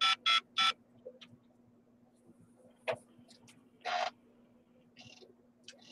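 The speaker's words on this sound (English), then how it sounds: "Oops, wonder if I dial the right number" A few short electronic telephone dialing beeps in quick succession, followed by scattered clicks and a couple more tones against a faint steady hum.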